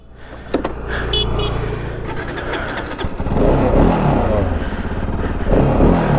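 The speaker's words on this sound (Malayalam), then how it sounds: "വണ്ടി ഞാൻ ഒന്നുകൂടെ ഒന്ന് ഓടിച്ച് ഓക്കെ ആണെന്നുണ്ടെങ്കിൽ എടുക്കണുള്ളൂ" A modified RS200 motorcycle with dual disc brakes runs close by, its engine droning steadily, then revving harder and louder partway through, with speech mixed in over the noise.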